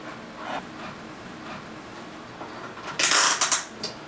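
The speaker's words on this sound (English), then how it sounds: "Aircraft aluminum ratchets, so they're not going to break on you." An aircraft aluminum ratchet on a snowboard binding strap clicks and rattles loudly in a short burst near the end after quieter mechanical handling, with no speech.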